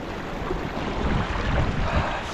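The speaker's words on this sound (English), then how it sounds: "The waterfall through there." Steady rushing water from Conewago Falls on the Susquehanna River at low water fills the air, a broad continuous roar with some gusty wind buffeting the microphone.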